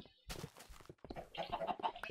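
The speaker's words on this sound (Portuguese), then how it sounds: "Só expulsar estas galinhas daqui." Chickens clucking in Minecraft Skyblock, several short clucks and squawks in quick succession, close and moderately loud, with no talking over them.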